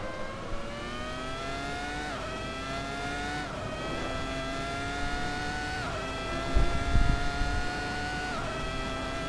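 A Ferrari F2002 Formula One car driven in the racing simulator Assetto Corsa, its high-pitched V10 screaming steadily with repeated gear upshifts roughly every one to two seconds, close and loud, with a brief low thump near the end.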